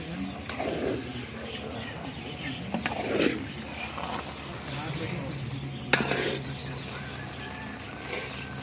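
Mukhadi halwa is stirred and sizzles in desi ghee in a pan, a steady frying hiss with scraping strokes and a few sharp knocks, heard close beneath people talking.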